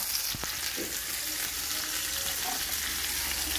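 Onions frying in a pan for menemen, a dense, loud sizzle that holds steady throughout with a couple of faint clicks near the start.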